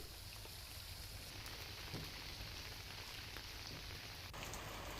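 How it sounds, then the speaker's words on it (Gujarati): Dense, steady predawn downpour of heavy rain drumming on surfaces in Malpur, Gujarat, constant and enveloping, with no voices. "માલપુરમાં પણ ધોધમાર વરસાદ વહેલી પરોઢે અહીં વરસાદ ખાબક્યો"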